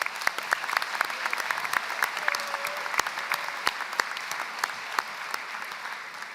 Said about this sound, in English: So give yourselves a round of applause for all that you have done to support your graduate.